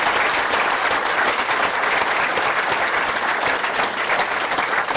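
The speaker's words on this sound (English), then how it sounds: "how about we give a warm round of applause and thank you" Warm, sustained applause from a dinner audience, a dense even wash of many hands clapping together at close range, with no voices rising above it.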